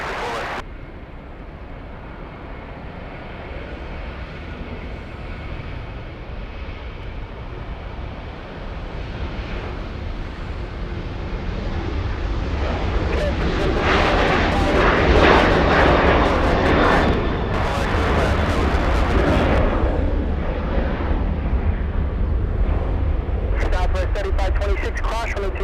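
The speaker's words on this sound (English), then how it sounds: "We have Frontier, we have Sombra on the tail of the A320." A Frontier Airbus A320 arriving at LAX from Salt Lake City roars closer, its engine noise building to a loud sustained peak midway and holding, with talk in the background.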